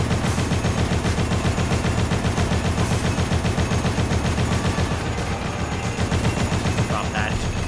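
A turret machine gun in the Dead Rising video game fires a long continuous rapid burst that stays loud and steady for the whole stretch, with a little game noise mixed in.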